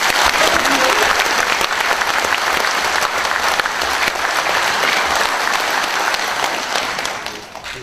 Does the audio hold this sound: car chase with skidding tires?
no